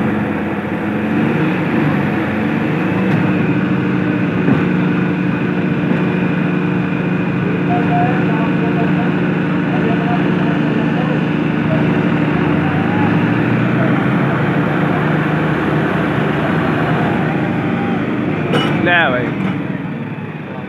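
A John Deere 5210 tractor engine runs at a steady, loud, low rumbling drone close by for about twenty seconds, with crowd voices and shouting mixed in underneath.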